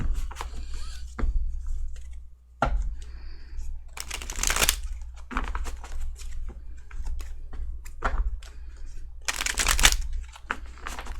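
Tarot cards are shuffled in repeated riffling bursts, close and crisp, with soft handling noises between them and no talking.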